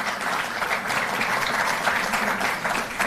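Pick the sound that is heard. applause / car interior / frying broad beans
applause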